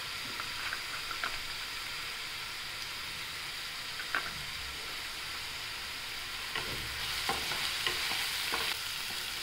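Small tender fenugreek leaves with plenty of garlic sautéing in oil with turmeric, a quiet, steady sizzle broken by intermittent stirring scrapes and light clicks of a spatula.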